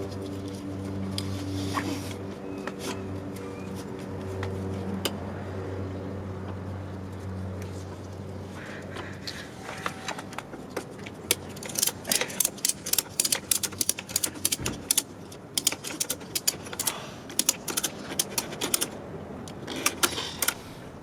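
A ratchet strap clicks tight around the carburetor air intake baffle of a DRZ 400 motorcycle, a run of sharp, close ratcheting clicks in quick bursts following a stretch of low background hum.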